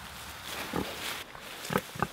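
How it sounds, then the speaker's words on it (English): Pigs rooting in dirt, giving a few short, low grunts in separate bursts over a soft, faint background hiss. "The pigs just wanted to say hi"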